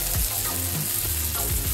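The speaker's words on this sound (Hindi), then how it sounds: "एक एक डाल के शैलो फ्राई करेंगे।" Paneer, capsicum and onion shallow fry in a pan with a constant loud sizzle and hiss, with a few soft scrapes and clinks of stirring.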